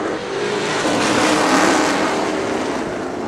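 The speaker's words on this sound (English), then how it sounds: "Peasley spins the tires and almost loses it across the line." A pro stock race car spins its tires at a short-track oval race, a loud, roaring engine-and-tire rush that swells and fades within a few seconds, with no talking.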